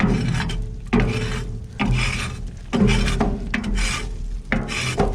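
Creosote being scraped down inside an outdoor wood boiler, loud harsh rasping strokes of metal against the firebox walls in a slow repeating rhythm of about five long scrapes, close and alone.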